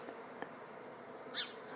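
A swarm of honeybees that has just left the hive and settled outdoors gives off a soft, continuous buzz. A faint bird chirp rises briefly above it, and no one speaks.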